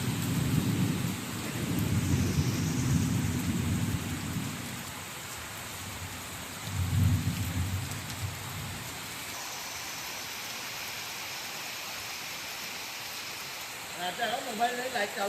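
Heavy rain pours steadily with deep rolls of thunder rumbling twice, loud and close, before easing; faint voices and some higher chirping sounds appear near the end.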